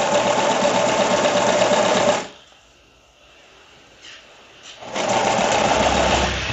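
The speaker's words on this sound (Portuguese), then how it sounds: "Aqui eu vou esticar e a gente costura." A domestic sewing machine stitching knit fabric runs in a loud, fast whirring burst, stops for about two and a half seconds of near silence with a faint handling sound, then starts stitching again.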